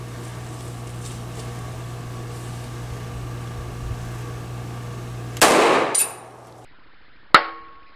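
A .45 pistol fires a full metal jacket round-nose bullet at a door: a steady hum, then one loud close shot with a short ringing tail, and a second sharp metallic impact about two seconds later.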